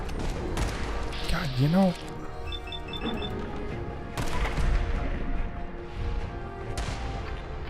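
Gunfire from a slow-firing weapon in Fallout 4: Far Harbor, with scattered shots and impacts among game effects while someone talks over them.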